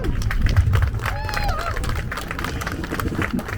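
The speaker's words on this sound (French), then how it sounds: "une bonne main d'applaudissements pour ça" Applause from an audience at a closing speech for the Comité Pare-Chocs, a steady patter of many hands clapping throughout, with crowd murmur and a voice speaking over it.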